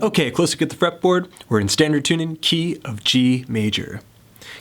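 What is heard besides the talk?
None of the usual background noises is heard.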